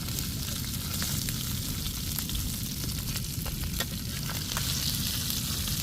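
Tilapia fish frying in a pan of oil, a steady dense sizzle with scattered crackles and pops that holds at an even, close level throughout with no talking.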